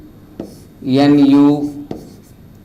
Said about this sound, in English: So I will write here CH3